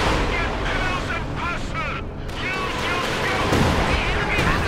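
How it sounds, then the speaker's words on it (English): Rocket barrage explosions in Company of Heroes 2, a loud continuous rumble of blasts and bursts layered under steady commentary. "Just lots of rockets, now they're actually a bit closer here"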